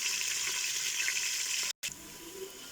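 Onion and whole spices, cumin and cloves, frying in a pan while the onion browns lightly, a steady close hiss of sizzling oil broken by a brief gap near the end.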